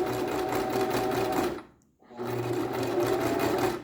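A sewing machine runs steadily while stitching a long gathering stay stitch in fabric, stopping for about half a second before starting up again, loud and close, with no talk over it.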